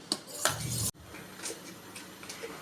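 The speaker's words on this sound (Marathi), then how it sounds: "पीठ चांगलं फेटून घ्यायचं आहे हलकं होईपर्यंत त्यातून फेटून घेते" Medu vada batter being beaten by hand in a bowl gives close, scraping clatter with a few sharp knocks, a loud burst in the first second followed by quieter, steady rustling whisks.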